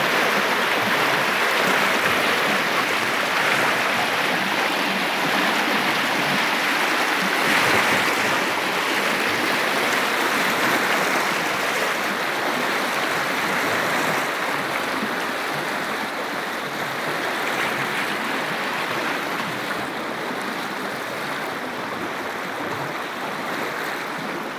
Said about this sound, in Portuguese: para mostrar como se encontra aqui a descida das águas do cinturão